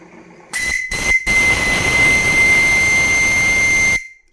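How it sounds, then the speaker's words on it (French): A loud, shrill steam whistle on a small steam launch gives two short toots, then one long sustained blast over hissing steam, cutting off abruptly. "Ça, c'est du sifflet."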